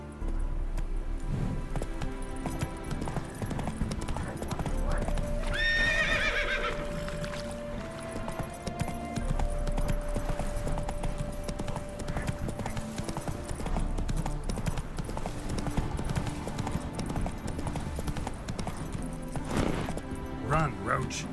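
Roach the horse gallops with rapid, continuous hoofbeats in The Witcher 3: Blood and Wine, giving a clear neigh early on, with sustained tonal background and brief voices.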